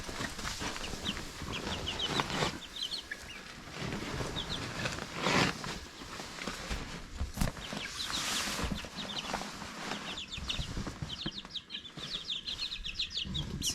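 Bantam chickens in a large brooder chirp and cluck close by, with repeated bursts of peeping, scuffling, and occasional wing flapping over a busy, continuous background.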